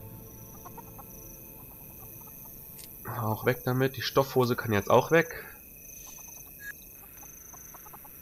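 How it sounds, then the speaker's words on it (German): A chicken in the video game Guild Wars 2 gives a short, rapid burst of clucks over a quiet game background while someone talks in German. "Ein Huhn?"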